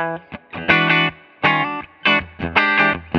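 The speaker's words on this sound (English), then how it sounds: "So the Ultra 2 noiseless pickups on this Telecaster, you'll notice, retain all the beautiful twang and snap that a Tele is known for" Fender American Ultra II Telecaster with noiseless pickups, played in short bright twangy chord stabs and phrases with clean gaps between them, close and alone.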